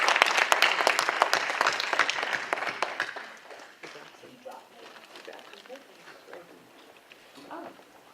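An audience at a women's transformation summit gives strong applause that tapers off after about three seconds, leaving scattered claps and a murmur of voices in the room.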